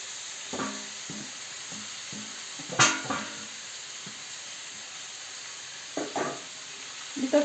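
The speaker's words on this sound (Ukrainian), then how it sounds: "Тепер, коли цибулька вже трохи підсмажилася, додаємо морку." Onions and carrots frying in oil in a pan for Ukrainian pilaf, a steady soft sizzle with a few louder bursts of stirring and pan clatter, close by, no talk.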